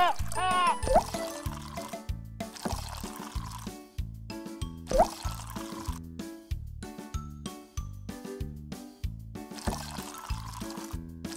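Water is poured over a Baby Annabell doll's hands at bath time, with repeated short splashes and trickles, light drips and plastic clinks in an uneven rhythm, close by.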